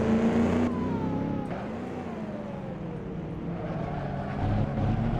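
A vintage 1938 Grand Prix racing car engine in Assetto Corsa drones steadily with shifting pitch, a rival car's motor trailing close behind the player's own at the Pau circuit.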